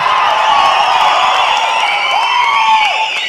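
Audience at a stage event with Sivakarthikeyan and RJ Bala clapping and cheering, a steady dense wash of applause and shouts sustained throughout without pause.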